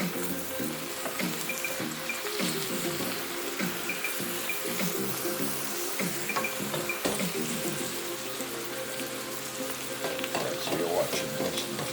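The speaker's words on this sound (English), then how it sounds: "Alright, so now I'm going to stir." Jamaican butter pork stew stirred in a pot, with a steady simmering sizzle and repeated scraping and clinking of the spoon against the pot, close and continuous, no talk.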